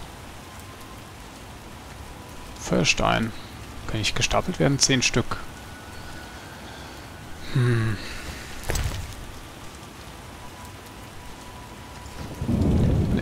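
Rain and rolling thunder from a stormy scene in The Witcher video game, a steady wet patter under the sound of someone talking, with a low rumble of thunder building near the end.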